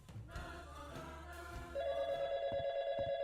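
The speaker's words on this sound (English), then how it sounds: "Hey, you get a phone call." A telephone in the video game YIIK starts ringing over soft background music, a loud steady electronic ring that sets in partway through and repeats in a regular pulsing rhythm.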